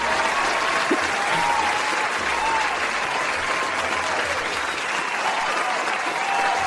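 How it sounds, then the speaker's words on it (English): Dense, steady applause from a large crowd continues throughout, loud and unbroken. "Thank you for the applause"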